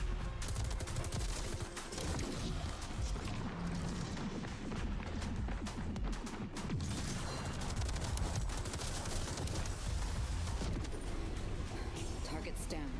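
Enemy gunfire in the shooter Metal Eden rattles in dense, continuous bursts with crashing impacts, loud and unrelenting, while a person talks over the action.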